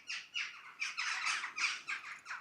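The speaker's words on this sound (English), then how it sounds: "I hope you can hear those birds going by." Outdoors with a mountain view, birds give a quick run of bright, rasping squawks as they pass, fairly close and steady for a couple of seconds, with no one talking.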